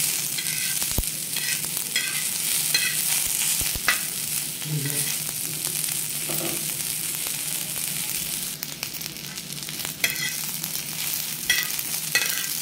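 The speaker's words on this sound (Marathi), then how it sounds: "कोथिंबीर पण आपण याच्यामध्येच भाजून घेणार आहे" Onion and coriander being roasted on a flat pan (tava), a steady soft sizzle with repeated scraping stirs and a few sharp clicks of the spatula, and no talking.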